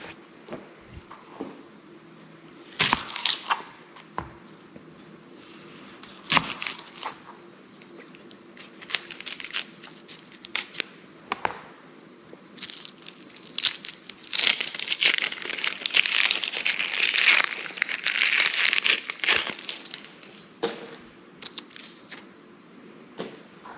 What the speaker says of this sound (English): Let's get our onion cut.